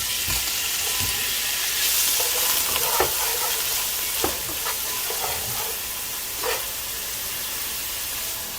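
Onion sautéing in hot oil in a pot for a spicy rice, peppers and sausage one-pot dish, a continuous loud sizzle and hiss punctuated by several sharp spoon-stirring clicks and scrapes.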